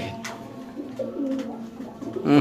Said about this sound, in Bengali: এটা হচ্ছে আপনার স্টেনসিল একটা লাহোরি কবুতর, নর কবুতর।